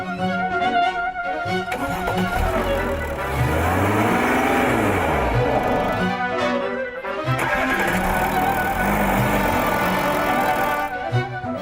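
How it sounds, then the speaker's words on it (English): An Audi A7 with a 245-horsepower 3-liter diesel engine drives, its engine droning steadily with rising and falling revs throughout, fairly loud and continuous. "The weapons in this duel are the two 3-liter diesel engines."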